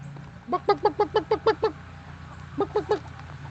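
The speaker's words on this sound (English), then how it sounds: "Chickens want to say hi to y'all." A short run of about nine rapid, evenly spaced chicken calls, then a pause and three more, with a steady low hum underneath.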